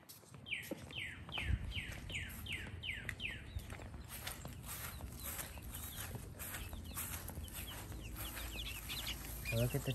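Young chicks at feeding time make a busy chorus of clucks and chirps close by. A rapid series of falling calls opens the clip, then the calling carries on continuously over background noise.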